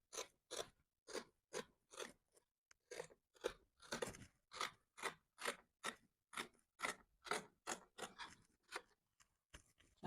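Scissors cut through dress fabric in a steady series of crisp, close snips, about two per second and regular in rhythm, in a quiet room.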